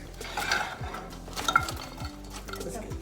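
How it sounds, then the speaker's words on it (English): Shrimp tipped into an oiled pan on medium heat set off a soft sizzle under several clattering, scraping pan and utensil sounds, close and brief, with no voice. "Just gonna dump shrimp in."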